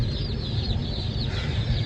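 Many Cornish Cross meat chicks cheep and peep constantly at high pitch, a busy chorus close by in a brooder over low rumbling noise.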